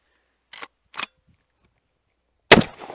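A Black Aces Tactical Core 12 shotgun firing 3-inch Remington Magnum buckshot: two short mechanical clicks, then one loud, close blast with a brief echoing tail.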